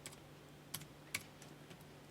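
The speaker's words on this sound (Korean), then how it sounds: "타이핑 쳐주세요 여러분" Numbers are typed on a computer keyboard in a quiet room, a few soft, sparse key clicks with two sharper taps standing out.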